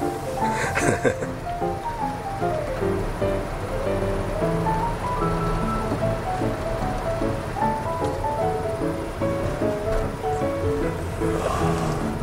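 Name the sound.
sea waves near the coast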